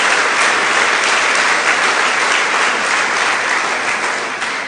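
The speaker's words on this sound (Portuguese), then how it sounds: "Dê uma salva de palmas a Jesus." Loud, dense applause from a church congregation fills the space, a continuous roar of many hands clapping at once that eases slightly toward the end.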